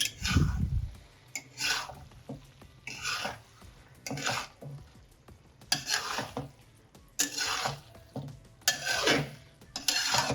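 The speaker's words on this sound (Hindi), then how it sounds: "अब इसको अच्छे से मिक्स कर लेंगे" A spoon stirring pasta with vegetables and chicken in a pot, giving repeated scraping and clattering strokes in bursts, close and fairly quiet, with no talking.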